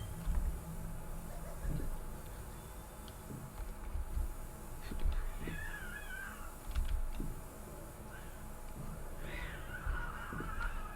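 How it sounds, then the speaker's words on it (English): Cats fighting outdoors at night yowl and scream in several rising wails, faint and distant against a steady background hum and low rumbling noise. "There's a cat fight going on outside."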